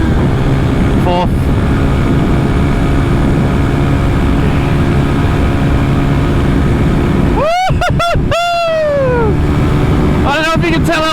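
A Honda 125cc motorcycle rides at wide open throttle, a loud, steady engine drone under wind roar that swells into rising, climbing revs through gear changes near the end.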